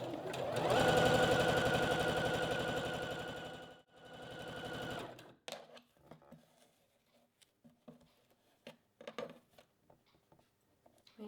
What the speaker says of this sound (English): and then sew along the top of the elastic